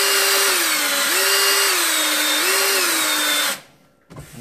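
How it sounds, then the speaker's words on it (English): A power drill with a scrub brush whirs steadily, its pitch dipping and rising under load as it scrubs tile and grout, then the motor cuts out abruptly, leaving brief rustling. "Use the drill pads on all your high quality pots and pans and even in your sink."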